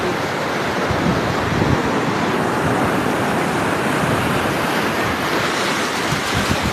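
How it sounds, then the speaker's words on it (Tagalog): Large ocean waves breaking on a shore where someone is trying to cast a fishing rod, a loud continuous roaring wash with wind buffeting the microphone, no voices. "masyadong malalaki yung alon"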